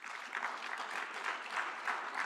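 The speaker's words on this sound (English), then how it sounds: "So let's give a round of applause for" Applause from the audience at a graduation awards dinner, a steady wash of moderate clapping heard from the room, continuous and unbroken for the whole span.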